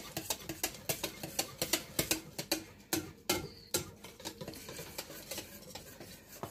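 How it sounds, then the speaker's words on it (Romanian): Vegetable pancake batter being whisked by hand with a wire whisk in a bowl, a quick rhythmic run of soft clicking, scraping strokes, close and fairly quiet with no talking. "Aerăm foarte bine aluatul cu telul."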